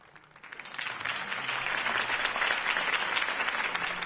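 Crowd applause after a campaign speech for Harvey Dent in the video game Batman: The Telltale Series, swelling from quiet into a sustained, dense wave of clapping that holds steady to the end.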